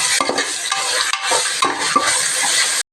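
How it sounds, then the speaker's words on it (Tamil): Ginger-garlic spice paste ground with cinnamon, cloves and fennel being stirred in a hot pan for mint biryani, with close scraping strokes over a continuous oily sizzle and no talking. "நல்லா கிண்டி விடணும்."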